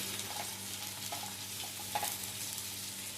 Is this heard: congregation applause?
no